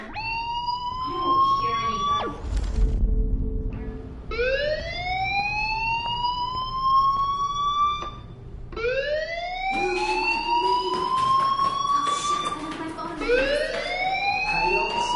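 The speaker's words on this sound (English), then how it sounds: "Hey, do you hear that fire alarm?" A fire alarm in the video game Life is Strange wails in rising, sweeping siren tones that repeat steadily and loudly for the whole stretch, with a low thump in the background early on.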